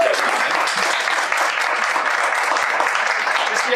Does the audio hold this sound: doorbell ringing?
no